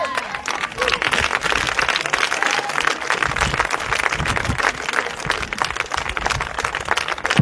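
A church congregation at a crusade service applauds continuously, dense steady clapping from a large crowd filling the room for several seconds, with voices mixed in.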